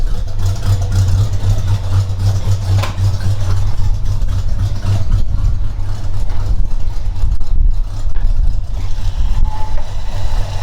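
A cold Ford 302 V8 idles with a loud, steady, low rumble close by, settling after a sharp throttle blip, with no talk.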